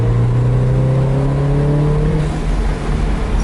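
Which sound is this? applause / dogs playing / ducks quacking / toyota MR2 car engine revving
toyota MR2 car engine revving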